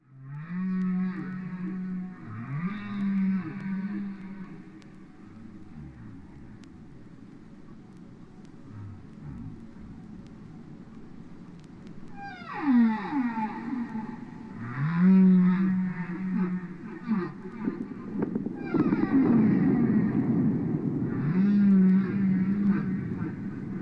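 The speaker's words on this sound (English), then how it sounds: "So let's take a listen to some of those first whale recordings." Early whale song recordings with long, low moaning calls and rising and falling sweeps that repeat over a steady hiss and grow fuller and louder toward the end.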